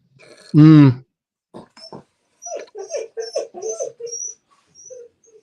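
A dog lets out one loud, high whine, followed by a string of softer, shorter whimpering cries that come and go over several seconds.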